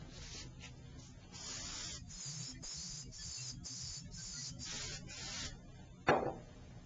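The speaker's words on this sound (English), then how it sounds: "What I want to show you is a light spray" A light spray of 3M aerosol adhesive hisses in a few short pulses, then in a longer steady run, faint and close, ending with a brief sharp knock.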